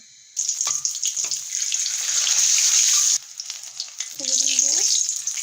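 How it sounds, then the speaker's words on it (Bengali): An egg fries in hot oil in a pan, a bright close crackling sizzle that swells and holds, briefly cuts out, then returns with a few soft clinks and a short burst of another sound. "তেলের ভেতরে আমি ডিমটা প্রথমে ফ্রাই করে নেব।"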